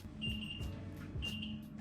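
A kitchen timer goes off after ten minutes of baking healthy homemade snacks, giving two short high beeps about a second apart over a low background hum.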